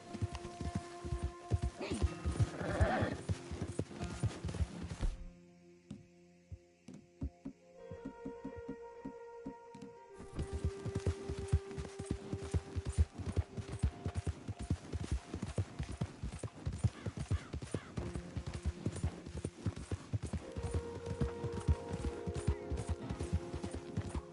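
A horse trots along in Red Dead Redemption 2, its hooves giving a steady, close clip-clop rhythm that drops out briefly for a few seconds, then resumes with tack rattling; no talk is heard.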